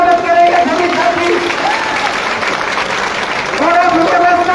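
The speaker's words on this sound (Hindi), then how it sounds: "अवध सिंह चौटाला जी का जोरदार तालियों से स्वागत करेंगे सभी साथी" A crowd at a political rally in Fatehabad claps loudly and steadily to welcome a speaker, the applause mixed with a voice over a loudspeaker and a general murmur of the gathering.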